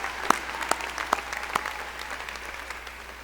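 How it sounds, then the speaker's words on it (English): A crowd applauds the graduates at SMU's 2017 morning commencement ceremony. The clapping is steady and moderately loud, with a few sharp individual claps standing out early on before it settles and eases slightly. "we also need a round of applause for the graduates today as well"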